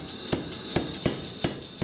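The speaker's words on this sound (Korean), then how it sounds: "꼬여서 동그랗게 변한 쇠가 여러 번의 망치질을 거쳐 다시 납작한 형태로 바뀝니다" Steel being hammered while forging a Damascus knife blade, a twisted round billet flattened again: five sharp, loud ringing blows at a steady pace, close by, with a constant high machine hum behind.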